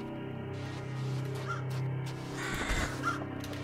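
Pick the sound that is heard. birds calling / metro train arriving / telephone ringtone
birds calling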